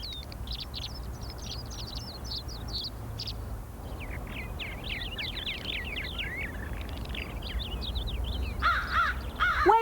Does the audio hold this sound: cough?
no